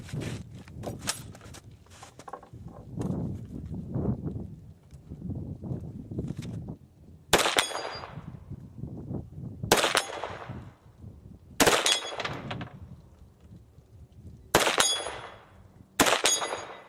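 Gunshots ring out at Plink Star high-caliber steel targets, five loud sharp reports spaced a couple of seconds apart, each followed by a bright metallic ring, after softer rustling and handling noise at the start.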